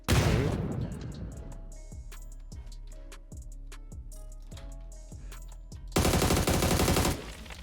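Rapid automatic gunfire in the PUBG battle royale game, a loud rattling burst that opens the clip, then spaced single shots in a steady rhythm, and a second dense burst near the end.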